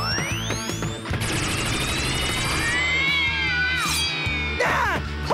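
A cartoon cat meowing and yowling loudly in a busy animated scene, drawn-out rising and falling cries over clattering effects and a music bed, with no talking.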